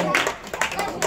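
Audience clapping in Abidjan, Côte d'Ivoire, heard as a few brief bursts of hands over about a second, with voices talking over and around them.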